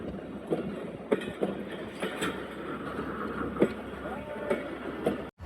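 Jaffar Express 40-Dn passenger train pulling out after shunting at Lahore on its first run after a major accident, with steady rail rumble, wheel clicks and faint squeals under ongoing talk and station bustle.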